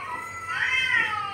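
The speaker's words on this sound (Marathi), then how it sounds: "म्हणे ना मांजरांचा आवाज लावलाय" A cat's meow played from a phone, a single drawn-out, rising and falling cry lasting just over a second, clear and fairly close with no voices over it.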